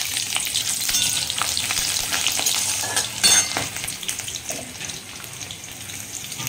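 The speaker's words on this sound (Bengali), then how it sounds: "তেলটা গরম হয়ে গেছে, আমি এখানে কালো জিরে আর কাঁচা লঙ্কা ফোড়নটা দিয়ে দিলাম।" Nigella seeds and green chillies tempering in hot oil in a wok, a steady close, loud crackling sizzle throughout with brief stirring clatter and no talk.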